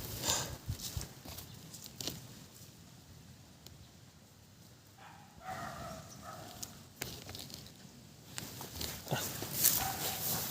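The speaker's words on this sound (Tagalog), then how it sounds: "Dogs." Dogs give a few short whines and yelps outdoors amid scuffling, clattering movement and background noise, at a moderate distance.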